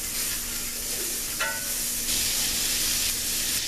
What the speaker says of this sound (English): Let's go ahead and throw some butter on.